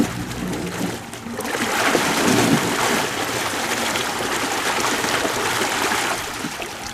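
A lake muck blower fan runs submerged in a lake, pushing about 400 gallons of water per minute, giving a steady, moderately loud rushing and churning of water that holds throughout.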